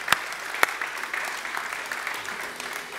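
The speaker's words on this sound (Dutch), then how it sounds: "maar een hartelijk applaus voor Thomas de Koning" Audience at a late-night talk event claps in a steady round of applause, with two sharp louder claps near the start and a moderate, even wash of clapping after.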